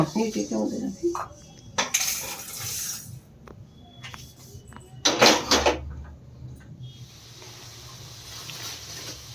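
A plate and utensils handled in a home kitchen while making mango pickle with jaggery, a few scattered clinks and scrapes, one louder rattle midway, fairly quiet and close with pauses between.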